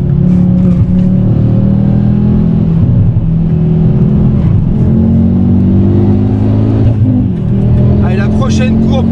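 Ford Focus RS driving on the Le Mans race circuit, its engine droning loudly and steadily from close inside the car as revs shift, with a person talking over it.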